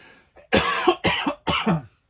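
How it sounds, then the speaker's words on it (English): Three rough, forceful coughs in quick succession, close and loud, after a brief quiet breathy start. "I'm going to cough"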